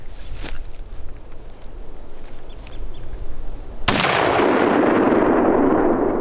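A single loud, sharp rifle crack rings out midway through a 2021 deer hunt in the John Day area, after quiet outdoor ambience, and is followed by a sustained rush of noise.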